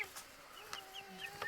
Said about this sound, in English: We moved the little chickens onto some fresh grass